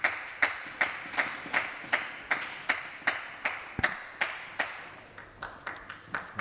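A table tennis player claps his hands at a professional T2 APAC match, about two sharp, regular claps per second carrying on steadily and fairly close, with no talk over them.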